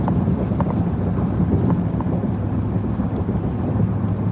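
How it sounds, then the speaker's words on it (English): Santa Ana winds buffet the microphone in Los Angeles, a loud continuous low rumble with gusty fluctuations throughout. "Here we have these Santa Ana winds."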